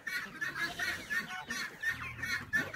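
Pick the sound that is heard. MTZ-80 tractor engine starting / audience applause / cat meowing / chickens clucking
chickens clucking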